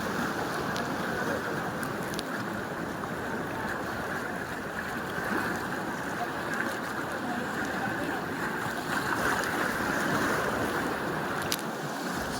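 Sea waves washing and splashing around a small boat out on open water, a constant loud surging roar with wind buffeting and no clear speech.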